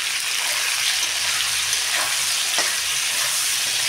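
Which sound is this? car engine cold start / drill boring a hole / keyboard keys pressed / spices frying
spices frying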